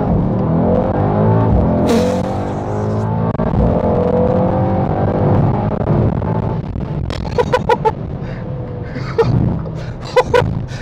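Mercedes-AMG GT 63 S 4-Door accelerating hard, a loud engine roar with rising tones heard from inside the car, followed by sharp gasps and short vocal exclamations from occupants.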